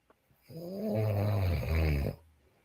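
A man snores alone in one long, rumbling breath that swells up and then fades, heard close.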